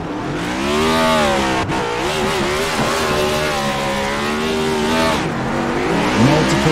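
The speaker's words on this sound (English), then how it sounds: "Multiple burnouts going on." Several race cars doing tire burnouts on a racetrack after an event, loud continuous engine drone and squealing tires with shifting pitch, close and sustained throughout.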